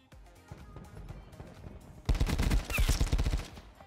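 A Tigershark burst rifle fitted with a Burst Rush operator mod fires in a shooter game: faint clicks and movement first, then a loud stretch of rapid, close, overlapping burst shots.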